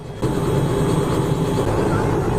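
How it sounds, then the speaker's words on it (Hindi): A helicopter carrying a wedding procession's guest lifts off nearby, its engine and rotor wash suddenly swelling into a loud, steady broadband roar that holds for the rest of the moment. "हेलीकॉप्टर यहाँ से उड़ान भर रहा है"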